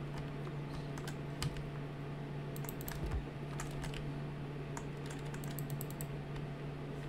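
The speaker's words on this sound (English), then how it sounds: "You, Mr. Loud Keyboard." Loud computer keyboard clattering in scattered bursts of keystrokes, picked up over a voice chat against a steady low electrical hum, with no talking.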